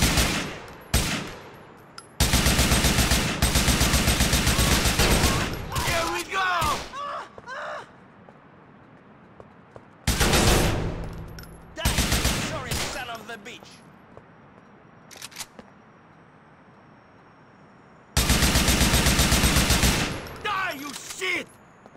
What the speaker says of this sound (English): Switching to the AK.